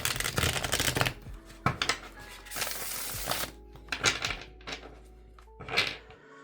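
Tarot cards being shuffled close up, quick riffling bursts and soft slaps of the deck, then a few separate flicks with pauses between.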